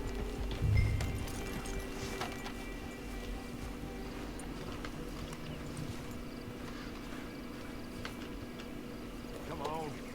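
Horse hooves clip-clop in Red Dead Redemption 2, a steady rhythm of hoofbeats at moderate distance over a low ambient hum, with a brief louder thump near the start and faint chatter in the background.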